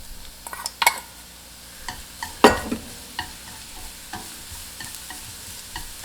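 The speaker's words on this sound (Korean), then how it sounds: "그러니까 약불에서 천천히 볶아주면 돼요." Shiitake mushroom stems stir-fried in perilla oil over low heat, with a soft steady sizzle under scattered scraping and clacking of a utensil against the pan.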